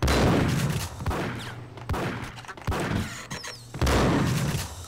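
Gunfire from the Max Payne video game: several loud, booming shots burst out in quick succession, each with a heavy low-end thump and a ringing tail, spaced roughly a second apart with brief lulls between them.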